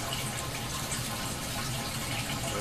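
Water gushes steadily into a DIY ebb and flow hydroponic system fed through capped tubes, a continuous, even rushing and trickling fill heard close, with no talking.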